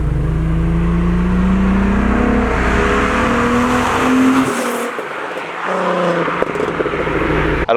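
A Golf 1 Cabriolet with an R32 engine swap, air intake kit and modified exhaust line revs hard, rising and falling loudly up close, with a brief drop around the middle and crackles near the end.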